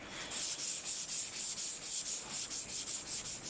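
Dry hand sanding on Yamaha R1 motorcycle bodywork, a steady close scratchy rubbing in quick back-and-forth strokes with a regular rhythm, no talk.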